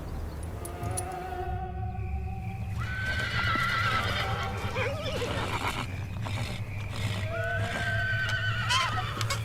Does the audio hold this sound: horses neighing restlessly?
yes